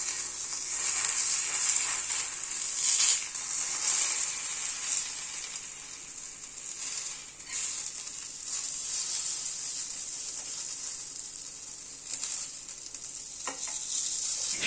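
A ripe-mango patisapta, a rolled pancake with mango filling, fries in a pan with a steady, close hiss and crackle that holds evenly throughout, with no voices.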